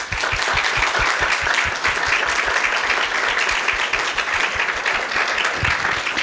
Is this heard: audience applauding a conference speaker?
yes